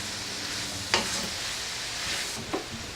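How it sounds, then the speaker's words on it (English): Onions and other vegetables sizzle in a pan over raised heat, a dense continuous hiss with a couple of brief scraping stirs, close and fairly loud with no talking. "I'm going to turn up the heat a little bit, kind of cook all the veggies"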